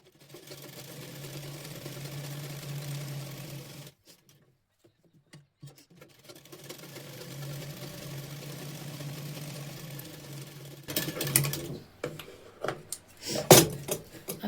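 A sewing machine runs steadily in short stitching runs over a blouse belt, giving a low, even motor hum. It pauses briefly, resumes, and ends in louder clicks and handling knocks.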